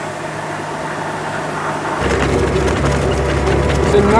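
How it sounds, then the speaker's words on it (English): A 1928 Chevrolet two-seat sport car with a 4-cylinder engine idles on a muddy road, a low steady rumble that grows noticeably louder and rougher halfway through. "It's a 1928 Chevrolet with a 4-cylinder engine."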